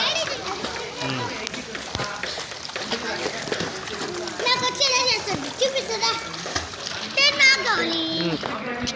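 Young sisters swim and splash in a pool, water slapping and churning in irregular bursts close by while children's voices chatter and call over the splashing.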